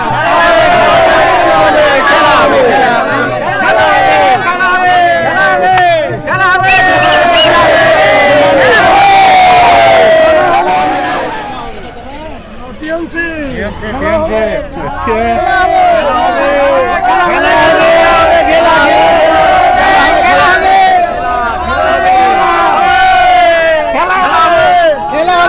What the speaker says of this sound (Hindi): बहुत जबरदस्त भीड़ है।